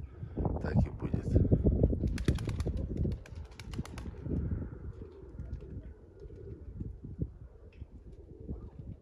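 A male pigeon chasing a female dove, with soft cooing, rustling and a burst of flapping wings close by, while someone talks over the sounds throughout.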